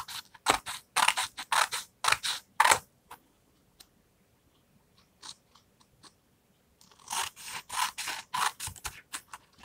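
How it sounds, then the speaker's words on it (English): Scissors trim the edges of a paper collage piece in two bursts of quick, crisp snips, close and clear, separated by a quieter stretch with only a few faint clicks. "What you do is turn it over and you can just trim off the edges."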